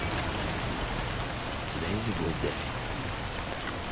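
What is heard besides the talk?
rain falling, from the video game Death Stranding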